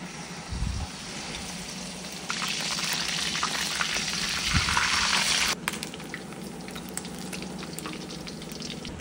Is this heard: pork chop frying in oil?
yes